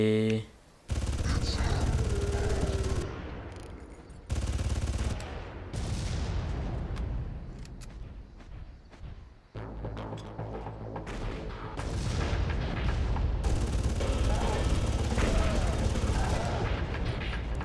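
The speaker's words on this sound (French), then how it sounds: "Ah oui, tu tires." Gunfire in Far Cry 1: loud, rapid bursts and overlapping volleys of shots, fairly close, stopping briefly and then resuming in a sustained barrage. Speech comes through now and then.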